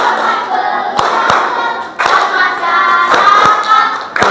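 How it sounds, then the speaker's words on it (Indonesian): Children in an Indonesian school religion class clap their hands together, a lively burst of scattered, sharp claps with a few louder strikes standing out, heard close with no talking. "Tepuk tangan buat semuanya."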